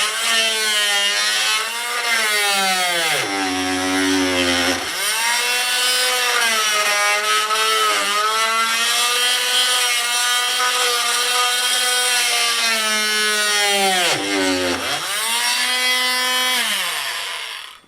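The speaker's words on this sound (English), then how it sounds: "I'll go and get the multi-tool and get that one chopped back" An oscillating multi-tool cutting through old, hard, wet wood at an off-grid Spanish finca, a loud continuous buzzing drone with a rising and falling pitch that bogs down twice as the blade struggles, no talk.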